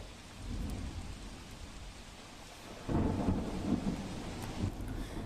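Heavy rain pours steadily during flooding in Surat, and a deep roll of thunder swells up partway through over the constant downpour.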